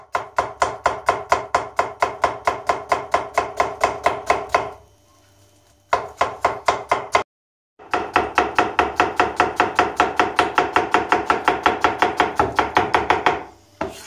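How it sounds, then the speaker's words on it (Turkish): A knife chops small onions on a board in a rapid, even run of crisp strokes that breaks off twice for short pauses before resuming, close and loud with no talking. "En küçüğünden 4 tane soğan doğradık."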